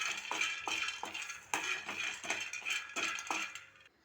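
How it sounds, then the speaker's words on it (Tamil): Peanuts roast in a kadai, tossed and stirred in rhythmic rattling scrapes about every half second, fairly close and steady. "ஸ்டவ் ஆன் பண்ணி ஒரு கடாயை வச்சுக்கிட்டு வேர்க்கடலை கொஞ்சம் சேர்த்துக்கலாம்"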